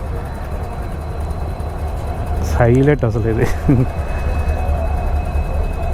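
Passenger train hauled by two locomotives rolling past near Bikaner, Rajasthan, a steady loud rumble of engines and wagons filling the whole stretch, with someone talking briefly over it midway.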